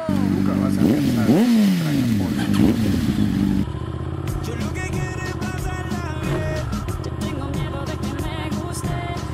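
A motorcycle engine revs loudly up close, its pitch rising and falling, then settles into a steadier running drone with clattering ticks as it pulls away.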